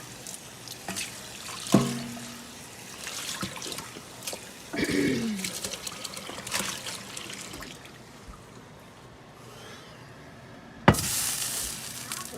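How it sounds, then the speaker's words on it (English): Tap water runs steadily over a cast iron skillet as it is rinsed in a sink, with a couple of brief clanks from the pan handled near the start and near the end. "So let me give this a quick rinse and we'll show you what we're left with."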